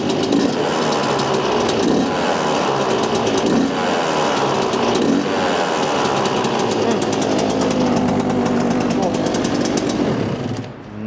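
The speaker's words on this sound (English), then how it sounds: "it'll start sounding like a proper two-stroke" A small Yamaha YZ125 two-stroke dirt bike engine idling with a rapid, buzzy, rattling putter, steady and close, fading briefly at the very end.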